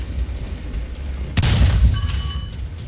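In the War Thunder tank battle game, a single loud, close tank cannon shot booms out with a sharp crack, followed by a rumbling tail and faint metallic pings from the hit.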